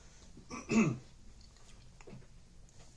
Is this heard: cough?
yes